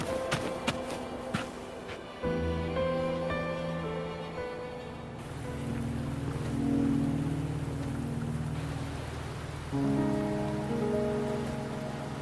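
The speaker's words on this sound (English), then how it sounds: "Are you trapped here by the rain?" Rain falling in the Wuthering Waves game, a soft continuous patter beneath sustained musical tones and chords that shift partway through, no voices present.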